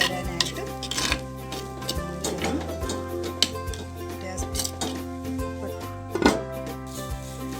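A spoon stirs chundakka (turkey berry) with curry masala powder in a metal pan, giving irregular close clinks and scrapes over steady background music.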